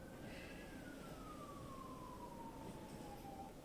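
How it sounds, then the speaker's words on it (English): A distant emergency siren wails, its tone sliding slowly downward over a steady background hum. "sorry about the noise. There's sirens now."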